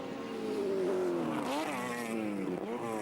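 A Mazda touring race car screams at full throttle near 9,000 rpm in fifth gear, a loud sustained high engine whine that shifts in pitch as it passes, heard in a 1983 Surfers Paradise race.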